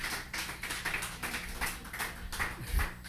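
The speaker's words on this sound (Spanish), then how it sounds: "Un aplauso," An audience at a comedy show claps in a quick, choppy burst. The claps come in close, uneven pulses, with a light thump near the end.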